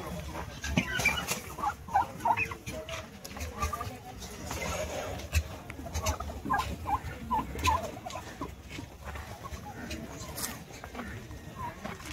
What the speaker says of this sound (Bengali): এটা হচ্ছে টার্কি।